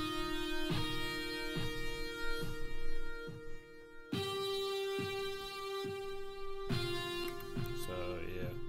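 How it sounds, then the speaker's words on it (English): A distorted electric guitar patch from a Roland XV synth plays sustained, heavily saturated chords in an Asian rock style, shifting chord every few seconds over a steady pulse of low thumps. "the next sound is a distorted guitar from XV"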